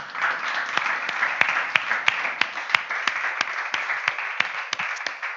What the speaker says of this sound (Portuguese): Alguém pode aplaudir o nome do Senhor?